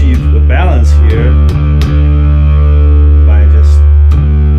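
A bass guitar tone shaped by distortion and effects and split across two separate speaker rigs: loud, sustained plucked notes with a few bends and slides over a heavy low drone.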